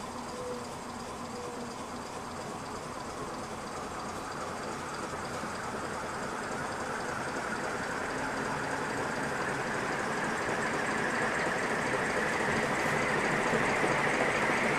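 A 56-inch Nadair Spinner industrial ceiling fan runs on high, giving a steady, loud rushing of air that swells slightly over time, with no talking.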